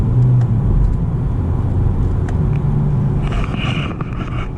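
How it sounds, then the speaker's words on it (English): A 2020 Honda Civic Sport with a 2.0L four-cylinder and CVT driving, a steady low road rumble and smooth engine whir heard from inside the cabin, loud and continuous with no talk. "But love the way this car drives. It's so smooth."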